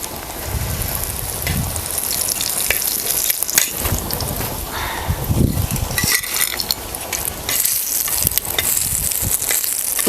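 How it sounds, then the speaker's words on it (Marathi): A snack of sun-dried curd with turmeric and salt fries in hot oil, giving a loud, dense, steady sizzle with crackling pops and occasional stirring clinks, close up and with no talking. "हे आता ह्याला तळून घ्यायचं"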